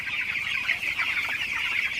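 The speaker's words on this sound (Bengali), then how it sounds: "তো ফিড দেওয়ার পর আপনারা দেখতে পাচ্ছেন আমার মুরগি কিন্তু আসলে পাগলের মতো ফিড খাইতেছে।" Broiler chickens cluck and chatter steadily while eagerly eating feed after a fasting period in hot weather, a dense continuous flock sound close by with no talking.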